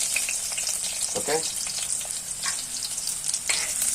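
Finely chopped shallots sizzle hard in a pan for a jackfruit-leaf thoran after the mustard seeds have spluttered. The hiss is dense and continuous with scattered crackles, and a brief spoken word comes near the middle.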